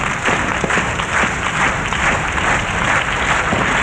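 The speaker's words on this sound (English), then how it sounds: "Everybody, come on, let me hear it." Studio audience at a telethon comedy segment clapping steadily and loudly throughout, a dense continuous wash of applause with no voices standing out.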